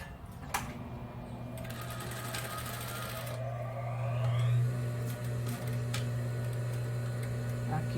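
A sewing machine runs in a long steady whir while stitching a Christmas cushion, its motor hum rising slightly midway, with faint ticks and small handling clicks around it, close and fairly quiet.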